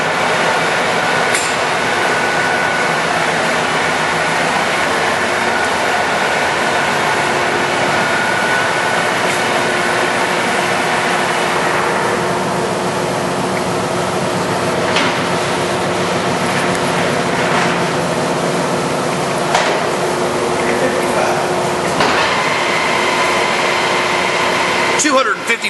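An American Pacemaker heavy-duty lathe with 19.5-inch swing over the bed and 56 inches between centers turns at about 60 RPM, giving a steady, loud mechanical hum and whir with occasional clanks throughout, while a person talks over it.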